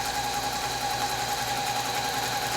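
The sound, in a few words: sewing machine free-motion quilting travel stitch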